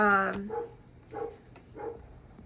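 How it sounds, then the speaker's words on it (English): A dog barks three times at a steady pace, loud and fairly close, following a brief tonal sound at the start, with no talking over it. "The dog won't hush."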